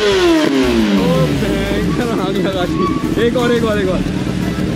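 A Kawasaki ZX10R sport motorcycle revs and pulls away nearby, its engine note rising and falling loudly through the run while someone shouts excitedly over the noise.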